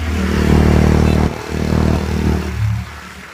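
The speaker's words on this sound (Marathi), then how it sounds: "एक्झॉस्ट पण बघा एक्झॉस्ट भारी आहे गाडीचा" Motorcycle engine and exhaust while riding near Poynad, Alibag: a loud, close, rumbling engine drone with wind and road clatter, dipping briefly then resuming before fading toward the end.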